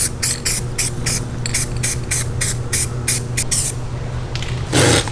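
Repeated bursts of hissing spray from etch primer being sprayed on the underside of a BMW E36, short rhythmic passes close by, followed by a longer louder spray near the end.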